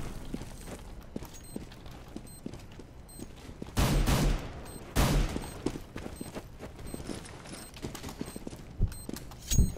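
Gunfire in Counter-Strike on the Dust2 map comes as two loud bursts of rapid shots, with scattered quieter shots, clicks and mechanical game sounds between them.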